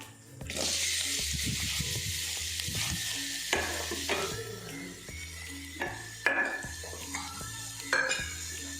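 Onions fry in hot coconut oil, crackling and sizzling up close, while a utensil stirs and scrapes against the pan in repeated bursts with clinks of metal.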